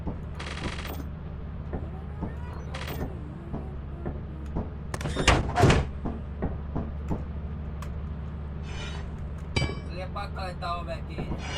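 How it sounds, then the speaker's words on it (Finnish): A metal door slams shut in the co-op horror game Lethal Company, a loud clanking burst midway through, set over a steady low machine hum with scattered clicks and game noise. "Pakko laittaa ovea kiinni."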